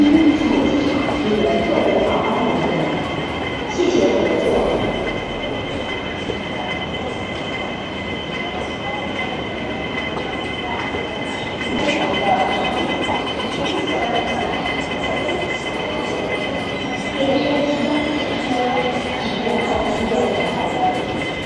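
A Hong Kong airport train runs steadily with a continuous rumble, wheel noise and faint squeals, loud and close throughout, with some voices in the background.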